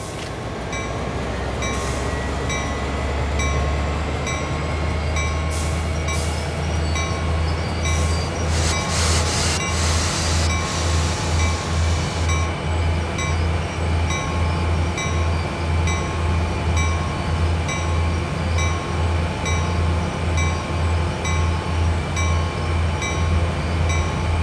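Locomotive in Train Sim World 2 rumbling steadily with a low engine drone and rhythmic wheel clatter throughout, with brief high squealing near the start, loud and continuous with no talk.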